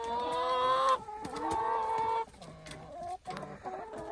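Chickens cluck and squawk close by in fresh snow at an off-grid cabin, several birds calling in uneven bursts with short pauses between them.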